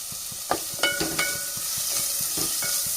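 Finely chopped onion, curry leaves and green chillies roast in a pan for a Kerala-style egg dish, giving a steady fry hiss under repeated sharp spatula scrapes and clicks nearby.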